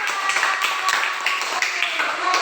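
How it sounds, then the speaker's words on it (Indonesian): A classroom group of pupils claps for their classmates in group 2, a dense, steady patter of many hands filling the room at close range with no one speaking over it. "Tepuk tangan untuk kelompok"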